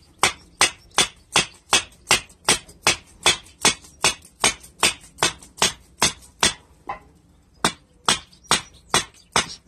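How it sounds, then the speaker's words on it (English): A long metal earth spike is hammered down into the ground with steady, evenly spaced sharp metallic strikes, about two per second, loud and close, with a brief pause near the end. "It's quite long, this earth spike, so it takes a bit of hammering down."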